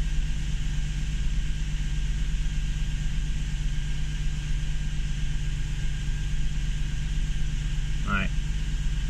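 A Nissan 370Z with an unstable idle holds a steady low engine rumble at about 1000 rpm, continuous and close throughout, with a brief faint squeak near the end.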